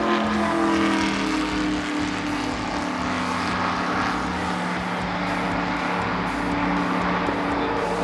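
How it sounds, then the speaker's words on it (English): NASCAR race cars pull out of the pits at a driving experience, their engines droning steadily at a moderate distance, with a rhythmic fluttering pulse running through the sustained rumble. "Everything was secure, and they exited the pits."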